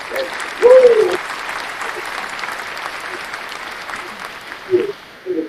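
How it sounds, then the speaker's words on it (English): A short burst of audience hand clapping follows a brief vocal whoop, then thins to a low crowd murmur, with a few scattered claps and voices near the end. "Can we get some hand claps, brother?"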